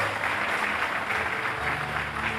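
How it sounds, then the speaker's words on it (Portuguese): A church congregation applauds during a communion service, steady dense clapping filling the space for a couple of seconds with a faint voice underneath. "Vamos aplaudir Jesus."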